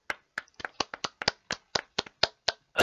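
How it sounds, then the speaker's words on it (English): Round of applause from one person: about a dozen sharp, separate claps in an uneven rhythm, close and clear, with no talking over them. "Give him a round of applause, guys."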